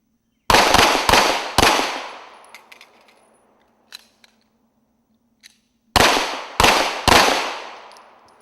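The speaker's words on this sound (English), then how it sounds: "an officer starts at the 25-yard line and shoots a series of rounds" Police officers fire handguns on an outdoor qualification range, two sharp bursts of rapid close, loud shots separated by a quiet pause holding a few faint distant pops, each report ringing out briefly.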